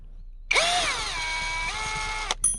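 A power drill fitted with a screw bit whirs for about two seconds while backing out a screw, loud and close, with a steady high whine that ends with a short final burst.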